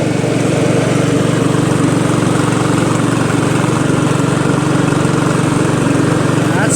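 A Craftsman LT1000 lawn tractor runs with its mower blades engaged, a loud, steady engine drone with a constant low hum that carries through the whole stretch, close by.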